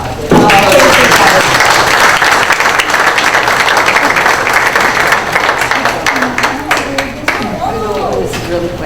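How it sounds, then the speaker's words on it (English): Loud, sustained audience applause at a school board of education meeting begins abruptly and continues throughout, with voices talking over the clapping as it slowly thins toward the end. "So maybe we can all give them a wonderful round of applause"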